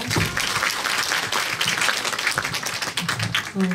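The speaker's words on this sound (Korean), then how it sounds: "박수 부탁드립니다" A school festival crowd at a Korean high school claps in a sustained, moderately loud round of applause, with voices mixed in beneath the clapping.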